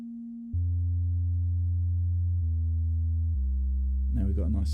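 Synthesized sub bass with MIDI notes dropped two octaves for a dance track: a sequence of deep, steady sustained tones changing pitch every second or so, with a brief brighter burst at the end.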